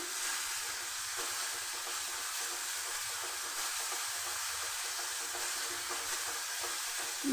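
Spice masala fries in oil for a vegetarian chana dal with peanuts, a continuous bright sizzle heard close and steady, with faint stirring scrapes and no talking.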